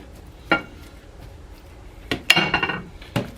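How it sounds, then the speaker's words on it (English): A cutting board and a kitchen knife are washed at a sink: a few clattering knocks and rubbing clinks, close by, and busier toward the end, with no one speaking. "I have to wash the cutting board and this knife before I cut my onion up"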